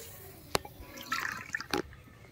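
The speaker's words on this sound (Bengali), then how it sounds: "এই যে 2 বাটি জল দিলাম।" Water is poured into a pot to make sugar syrup for jalebi, heard as faint, close splashes and trickling in a quiet kitchen, with a brief drip-like splash near the start and a second pour later.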